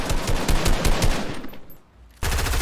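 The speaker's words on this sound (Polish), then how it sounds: "I tutaj też ktoś strzela jeszcze" Rapid bursts of gunfire crackle loudly in a Polish-played shooter video game, dip into near silence for a moment, then resume abruptly at full volume.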